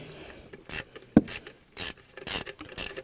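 A ratchet cranks down a bracket bolt on the valve cover of a VW Audi 3.0 TDI diesel engine, giving four or five short, crisp bursts of clicking with quiet pauses between strokes, close up and alone.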